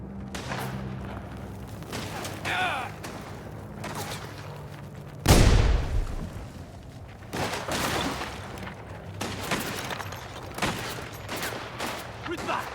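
Rapid gunfire bursts crackle through a firefight in the video game Mafia The Old Country, with one loud boom from a grenade blast standing out mid-way, while a voice shouts over the shooting.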